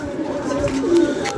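Old pigeons coo softly at close range, a few low murmuring calls in quick succession over a light background.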